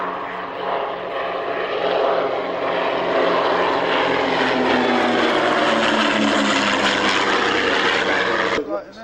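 A de Havilland Dragon Rapide biplane flies past at an airshow at Kemble Airfield, its propeller engine droning loud and steady before cutting off sharply at the end, with a commentator talking over it.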